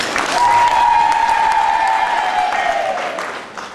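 A church crowd applauds at a bishop's installation service in Tabora, a dense burst of clapping with a sustained shrill tone riding above it before fading near the end.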